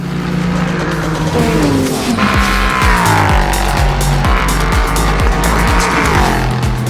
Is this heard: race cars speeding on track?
yes